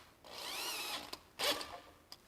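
A power drill driving screws into a brake drum whirs briefly in two short close bursts, rising in pitch, with small clicks between and after.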